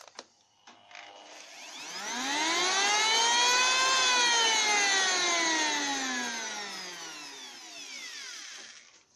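Electric planer with a soft-start system winding up gradually to a loud high whine, holding at full speed, then slowly spinning down, with a couple of clicks at the start and no speech.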